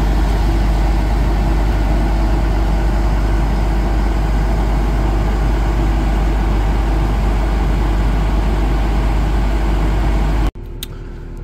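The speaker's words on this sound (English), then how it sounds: "she's become the great grain drying tractor" A tractor engine runs steadily to power a grain dryer, a loud, close, unbroken low drone that cuts off abruptly near the end.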